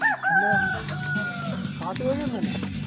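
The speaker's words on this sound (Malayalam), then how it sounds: "ഇവിടെയുള്ള ആരെങ്കിലും വളർത്തുന്ന കോഴിയാണെന്നാണ് നമുക്ക് തോന്നുന്നത് കേട്ടോ." A chicken clucks and cackles close by in a short run of calls, with faint rustling behind it.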